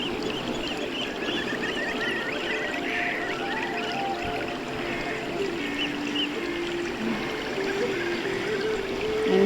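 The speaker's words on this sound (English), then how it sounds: "water is flowing" Water flows continuously through a small decorative Navaratri golu display, a steady trickling, pouring stream heard up close with no talk.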